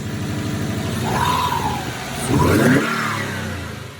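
A 2012 Subaru WRX four-cylinder boxer engine with a cold air intake idles nearby, then is revved twice, the pitch rising and falling with a throaty growl before settling back to idle.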